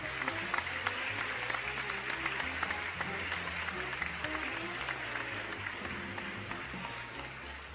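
Audience applause for a guest on stage, a steady dense wash of clapping that holds at full strength for the whole stretch, with low musical tones running underneath.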